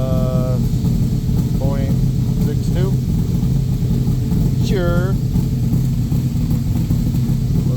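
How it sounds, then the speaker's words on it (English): A Backdraft Cobra 427 engine idling slightly lean, a loud, steady low rumble that runs unbroken throughout while a person speaks briefly over it. "Was idling a little bit lean, but it doesn't actually mind it."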